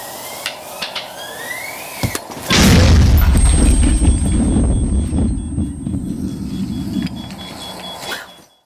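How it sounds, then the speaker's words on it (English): A practical action-movie explosion set off by a detonator bursts with a sudden loud boom and a long rumbling roar that trails off over several seconds, preceded by faint clicks and handling noises. "There's a detonator plugged right into the end there, and that is going to control the explosion at exactly the right time"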